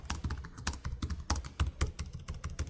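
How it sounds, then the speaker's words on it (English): Typing on an Asus ROG Zephyrus G14 gaming laptop keyboard, a quick run of close, crisp key taps in an uneven rhythm with a few heavier strikes, heard alone. "The Zephyrus G14 feels nice to type on and has a very balanced typing experience."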